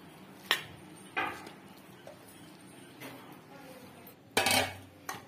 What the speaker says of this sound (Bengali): একটু ভালো করে মিশাইতে হবে